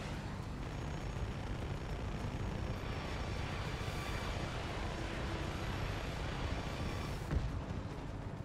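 Helicopter flying in the Just Cause 3 video game, a steady broadband rotor and engine roar holding loud and constant throughout, with a brief thump near the end.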